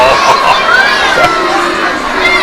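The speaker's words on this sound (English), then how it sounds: "Massive crowd here." A large crowd at an independence day pro wrestling event keeps up a loud, continuous roar with scattered shouts and cheers, filling the whole stretch with dense, steady noise.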